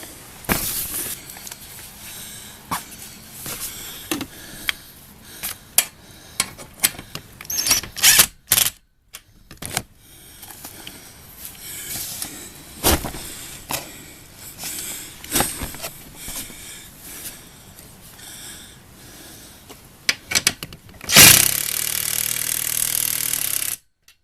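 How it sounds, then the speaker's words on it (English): An impact driver tightening a screw during garage anchoring and assembly, close bursts of rapid hammering rattle in short runs separated by pauses, ending in a louder sustained burst. "I sure do like having this impact driver."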